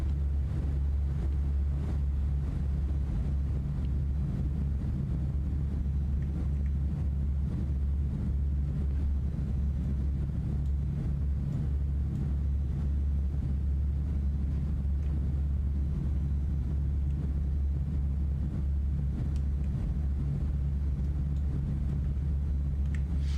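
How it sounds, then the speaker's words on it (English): An Airbus A320 engine in the Fenix flight simulator drones as a steady deep rumble with a faint airy hiss, constant and unbroken. "You can hear the engine."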